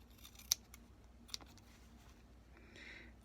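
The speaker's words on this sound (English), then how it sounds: "we're just going to trim the corners" Scissors trim the corners off sewn fabric with two brief, crisp snips about a second apart. A faint rustle follows, all quiet and close against near silence.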